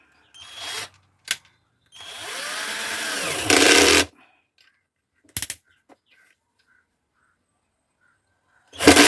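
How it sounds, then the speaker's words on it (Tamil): Power drill or driver screwing a wall-hanging clamp onto a 2-way 8-inch speaker box, with a couple of short bursts and one sustained whirring run of about two seconds, nearby and loud, separated by quiet gaps. "இந்த மாதிரி கிளாம்ப் ஒன்று வாங்கிட்டு இதை கரெக்டாக சென்டர் பண்ணி வச்சுக்கிட்டு ஸ்க்ரூ பண்ணிட வேண்டியதான்"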